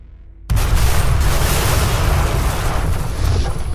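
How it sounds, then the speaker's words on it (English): A sudden loud explosion bursts in after a moment of quiet, followed by a sustained heavy roar and rumble. "huge explosion."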